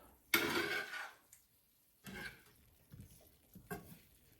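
A spoon mixing candied beets and carrots in a dish, a few quiet scraping and clinking strokes separated by pauses.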